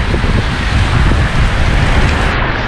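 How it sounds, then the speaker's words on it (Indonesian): Steady, dense rain falls in Darwin, a loud continuous hiss and patter with no breaks, close and enveloping. "kalian hujan-hujan pertama kali di Darwin"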